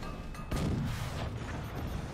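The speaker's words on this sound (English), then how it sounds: "Okay, that's the first cannon." A single cannon shot booms low and heavy in the naval battle of the Forts game, followed by a muffled rumble under faint game noise.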